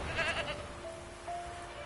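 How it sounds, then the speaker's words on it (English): A staked goat used as forktail bait in The Witcher 3 bleats faintly under ambient game sound and music, with a short wavering call early and a quieter tone later. "Can't smell Eskel, but there is the goat."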